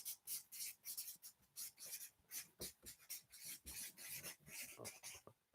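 A marker squeaks and rasps across a flip chart sheet in quick, rhythmic strokes, close and fairly soft, with no talking over it.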